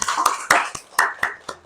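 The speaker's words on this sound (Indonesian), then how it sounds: "tepuk tangan untuk kita semua" A classroom group claps together in a rhythmic pattern, about seven sharp hand claps spaced roughly a quarter second apart, close and fairly loud, with faint voices between them.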